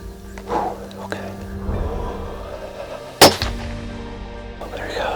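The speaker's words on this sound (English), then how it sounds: "Right when you're ready, go ahead and take the shot" A single sharp rifle shot fired at a buck during a hunt cracks out loud and close midway, between stretches of whispered talk and quiet outdoor background.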